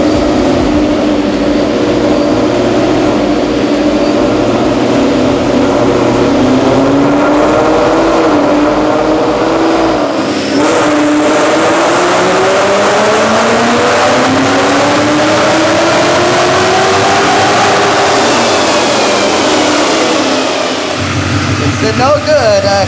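A car engine roars continuously on a dyno during a pull, its pitch climbing steadily as the revs build, then dropping away near the end, loud and close with some voices underneath.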